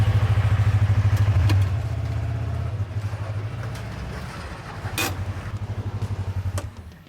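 An off-road vehicle rolls off a trailer, its engine idling nearby in a loud, steady pulsing throb that softens and then picks up again, with a few clanks and knocks and no one talking.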